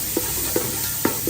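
Ginger and garlic stirred slowly in hot ghee in a pan, a steady close sizzle broken by four soft scraping strokes of the spoon.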